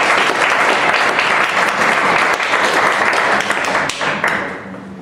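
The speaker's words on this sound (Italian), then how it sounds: "Io farei anche un bel applauso anche a me." Applause in a municipal council meeting after the mayor names the new executive members: a dense, loud burst of clapping from the room that stays strong for about four seconds and then tapers off.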